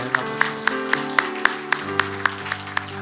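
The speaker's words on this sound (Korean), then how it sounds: "하나님께 우리 영광의 박수 올려드리겠습니다" A church congregation at a Sunday morning worship service claps in a steady, even rhythm, about four claps a second, over sustained musical tones.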